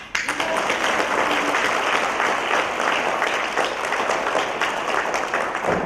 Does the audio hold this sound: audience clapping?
yes